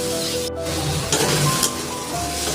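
Spices sizzle steadily in a frying pan while being stirred for a Bengali-style stir-fry of kochur lati (taro stolons) with prawns and grated coconut, a continuous close hiss with brief scraping bursts and no talk.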